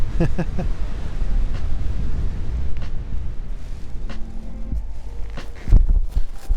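Wind buffeting the microphone while sailing a BGD Luna 3 paraglider, gusty low rumbles rising and falling close up, with occasional clicks and brief tonal whines from gear.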